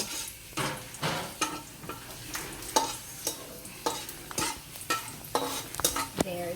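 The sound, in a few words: garlic sizzling while frying in a pan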